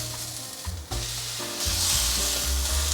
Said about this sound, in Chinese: 番茄放进来慢慢炒，它会有水分